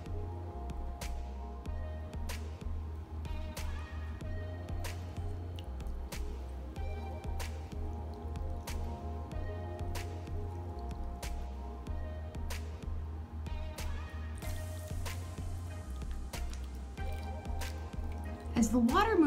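Water dripping through soil in a tabletop wetland ecosystem model, a steady series of small, close drips and soft squishes running throughout over a quiet background hum.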